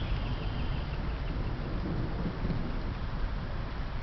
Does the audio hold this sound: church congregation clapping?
no